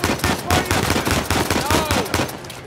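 Rapid automatic gunfire from the video game Uncharted 4, loud and close, with bursts of shots crackling in quick succession and a few short pauses, under a faint voice.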